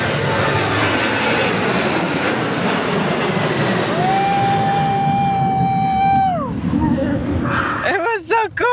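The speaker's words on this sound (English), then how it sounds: "Oh, there's a plane taking off this way." An airplane takes off nearby on Corfu, its engine roar loud and steady, then a rising whine that climbs and fades as the plane pulls away.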